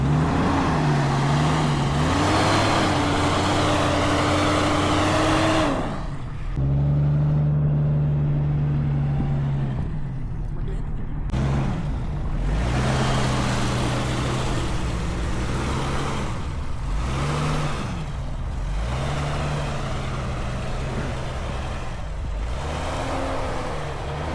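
A Jeep engine runs steadily close by as it backs up onto a trailer, its low drone rising and falling with several revs and throttle shifts, with no talk.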